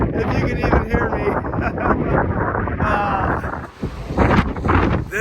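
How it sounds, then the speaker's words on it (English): Gusty wind buffets a microphone on a cold Appalachian Trail hike through the Smoky Mountains, a loud, steady broadband roar with rising and falling gusts, a voice faintly audible underneath. "It's windy"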